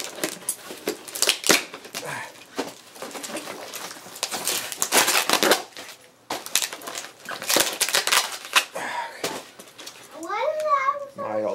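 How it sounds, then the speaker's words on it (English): Handmade Chinese scissors from a Chengdu locksmith cut through wrapping on a book, giving irregular crunchy snips and crackling rustles close to the microphone, with a brief voice near the end. "I'm using the Chinese scissors, which were made by the local locksmith in Chengdu."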